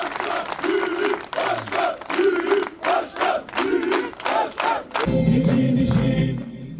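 Crowd at an outdoor stage in Bornova's Büyük Park chants a rhythmic two-beat slogan for the mayor, repeated in loud bursts about every half second, then breaking into sustained cheering and applause.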